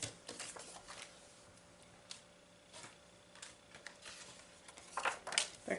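A paper trimmer slicing along a faint pencil line on a photo while scrapbooking, giving soft scraping and sliding sounds with a few light clicks, growing louder toward the end.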